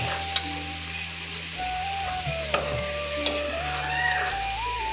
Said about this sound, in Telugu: ఇది కొంచెం బాగా ఫ్రై అవ్వాలండి.